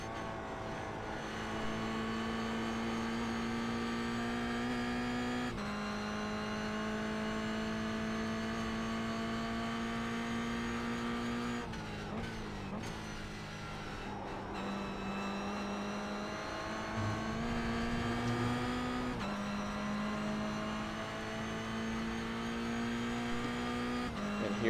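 A Toyota GR86 race car lapping Oulton Park during a battle for the lead, its engine droning steadily with pitch shifts at gear changes, heard from onboard over a long continuous stretch.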